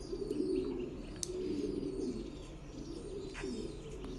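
Titan meat pigeons in cages coo in low, repeated throaty rolls, several birds overlapping at close range, with faint chirps and a soft rustle of wings in the background.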